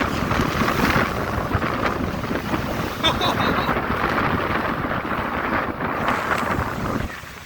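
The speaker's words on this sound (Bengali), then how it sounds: "প্রচন্ড বাতাস, আসলে এইভাবে থাকা খুবই মুশকিল, অনেক বাতাস।" Strong storm wind blowing across open water at a lakeside spot, a loud continuous roar and buffeting against the microphone throughout, with voices faintly under the noise.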